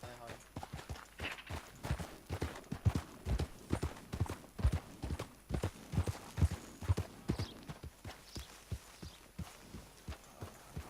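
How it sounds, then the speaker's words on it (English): Horse hooves clip-clopping at a steady walking pace in Red Dead Redemption 2, with sharp, evenly spaced strikes close by that run for the whole stretch over a faint game ambience. "Caballo."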